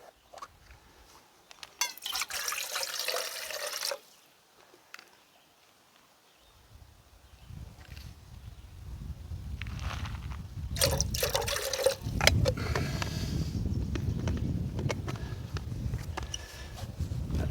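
Water runs and splashes into a cooking pot at a camp site, a steady pour building in the second half with some handling clatter before it.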